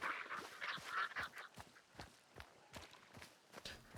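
Birds in Hunt: Showdown 1896 give a burst of quacking, duck-like calls at the start, faint and somewhat distant, followed by scattered soft footstep thuds.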